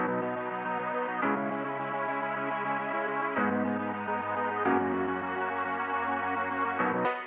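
The same FL Studio synth melody runs through the RC20 meaty vocals preset, giving a warm, retro tone. Sustained rich chords change every second or so at a steady level, with no talking.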